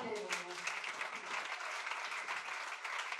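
A church congregation applauding, dense continuous clapping with voices cheering underneath, steady and fairly distant throughout.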